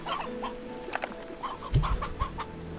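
Chicken clucking in the video game Slime Rancher 2, a series of short soft clucks scattered at an irregular pace with a brief low thump midway, moderately close with no talk.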